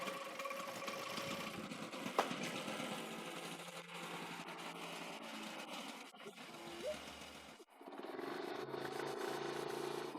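A carbureted motorcycle engine idles steadily and close by, a smooth continuous mechanical drone that dips briefly near the end before settling again.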